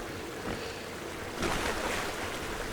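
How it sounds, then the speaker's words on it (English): A waterfall in the Black Mesa video game gives a steady, broad rushing wash of water, moderately loud and constant, swelling slightly partway through with no talking. "So another waterfall."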